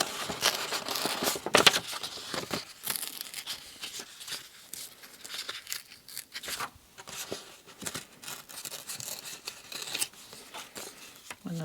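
Tissue paper being torn by hand for a faux vintage postcard, a series of close, quiet crinkly rips and rustles, with no talking.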